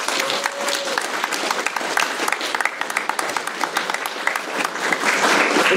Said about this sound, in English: Can I get a round of applause for Cooper?